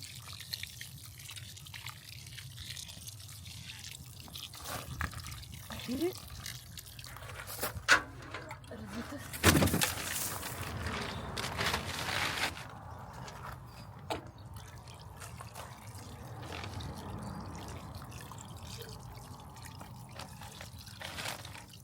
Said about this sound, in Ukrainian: Можна так полити, що аж насіння спливе.